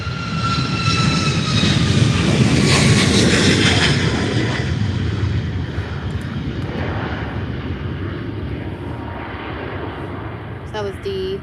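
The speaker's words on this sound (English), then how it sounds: "awesome Ryanair 737 MAX 8" A Ryanair Boeing 737 MAX 8 jet at Faro Airport thunders past with a loud, close, broad engine roar that slowly fades, while a voice talks over it.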